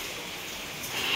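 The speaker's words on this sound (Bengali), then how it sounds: "এই তো বাইরে বৃষ্টি চলছেই চলছেই" Rain falls steadily outside during a cyclone as a soft, continuous hiss that swells slightly toward the end, with no voices.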